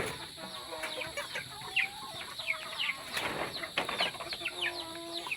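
Rhode Island chickens scrapping with a smaller bantam hen: close, excited clucks and squawks come in bursts, with brief wing flaps and a short rustling scuffle.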